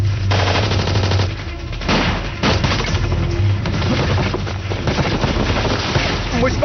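Rapid bursts of automatic gunfire in a war movie, loud and sustained, with scattered single shots and shouting voices mixed into the barrage.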